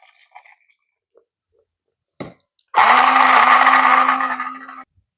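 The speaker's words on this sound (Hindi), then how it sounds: "देखो इन सब चीज़ों को हम मशीन में डालेंगे और इसे पीस लेंगे हम।" Roasted spices for chaat masala whirl in an electric grinder: a few soft knocks, then a loud steady motor whine for about two seconds that winds down and stops, close by.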